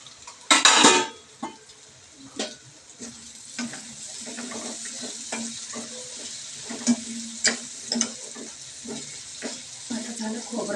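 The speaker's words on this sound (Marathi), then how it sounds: "खोबरं लसण अद्रकची पेस्ट तळून झाली" A paste of coconut, garlic and ginger frying in a pan, a steady soft sizzle broken by sharper scrapes and clinks of a spoon stirring against metal, with one loud clatter near the start.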